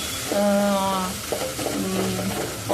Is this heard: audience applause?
no